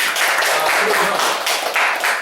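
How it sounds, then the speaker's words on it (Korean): Supporters gathered at the opening of a Seoul city council candidate's election office in Gangseo-gu clap together, a brief dense burst of applause filling the room close by. "박수 부탁합니다"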